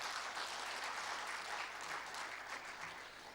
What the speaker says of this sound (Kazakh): бір шапалақ ұрып берсін